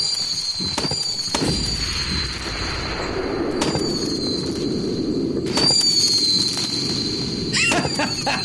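Firework missiles launching one after another, with sharp whistling shrieks and popping cracks repeating over a continuous crackling roar, loud and close outdoors.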